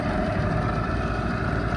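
A 15 horsepower two-stroke boat outboard motor starts on the first pull and settles into a loud, steady close-up running drone with low rumbling engine noise, no voices.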